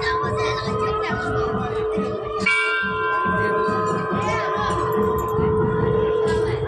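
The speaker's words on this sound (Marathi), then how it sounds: "आणि बघा घंटा किती मोठी घंटा आहे" A large temple bell at the Kharsundi Siddheshwar shrine is struck once partway through, and its bright, sustained ringing tones linger over a murmur of voices and crowd noise.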